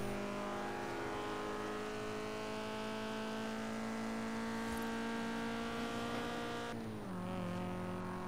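Stock Nissan 240SX accelerating hard, its engine note climbing steadily through a gear before a brief drop at a shift and a renewed pull, loud and close throughout with no talk.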